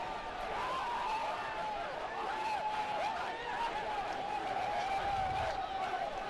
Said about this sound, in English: A stunned crowd here in Arlington